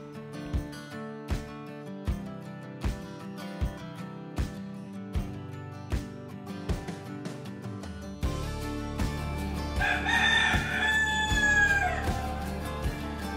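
A small farm flock of about half a dozen chickens and one rooster, with the rooster crowing in long, drawn-out calls that come after a stretch of steady rhythmic music-like pulses, the crows standing out clearly over a busier background.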